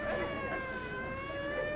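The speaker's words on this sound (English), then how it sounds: "Them sirens! Somebody's calling the law." Police sirens wailing in a steady, faint distant tone, layered and slowly sliding in pitch, with no talk over them.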